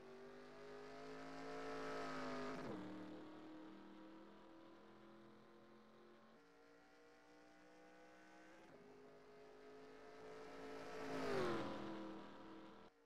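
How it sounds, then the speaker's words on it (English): Stock race cars in a racing video game accelerate with rising engine whine, two successive climbing revs with a gear-shift dip between them, steady and moderately loud with no talk. "Boy, do these cars take forever to get up to speed."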